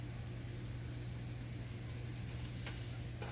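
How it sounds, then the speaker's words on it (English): Steady broadband sizzling hiss of vegan scallops on a hot grill pan, with a low hum underneath and a couple of brief clicks near the end. "I was expecting to hear a sizzle right there"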